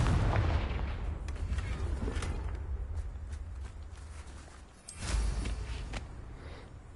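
The Confringo blast spell goes off in Hogwarts Legacy as a muffled, booming burst, followed a few seconds later by a second heavy impact. Low rumbling fills the gaps between the blasts.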